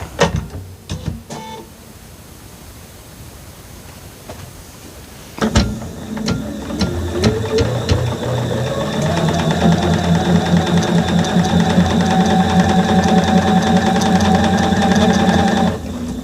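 After a few clicks and a pause, a sewing machine stitches a quilt block seam in one long, loud, close run, its motor rising into a steady, rhythmic hum.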